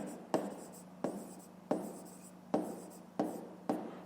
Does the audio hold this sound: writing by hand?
yes